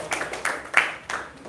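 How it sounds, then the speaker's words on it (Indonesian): Scattered clapping for high-achieving students at a virtual school announcement ceremony, with a few distinct hand claps spaced through a short, fairly quiet moment. "Berikan tepuk tangan yang meriah kepada siswa kita yang berprestasi."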